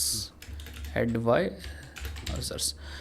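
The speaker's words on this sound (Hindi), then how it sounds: "हम सर्च में जाते हैं और यहाँ टाइप करते हैं एस्ट्रिक और चैट मेमोरी एडवाइजर्स" Computer keyboard keys tapped in quick runs while a search query is typed, close and clear, with someone talking over parts of it.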